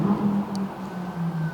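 An engine hums steadily nearby, a low droning tone that holds level for the whole moment with a faint whine above it, no voices over it.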